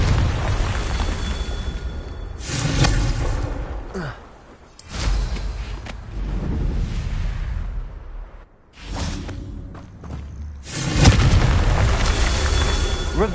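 Repeated Confringo fire-spell explosions in the video game Hogwarts Legacy, loud booming blasts with whooshing tails arriving in several bursts across the stretch, with no talk.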